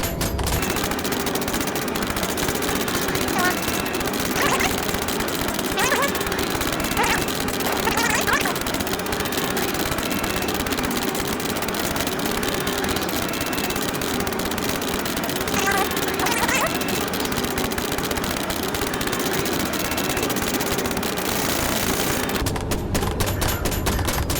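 Video game gunfire: continuous rapid automatic bursts and scattered shots over a steady engine-like rumble, loud and unbroken throughout, with voices talking over the action.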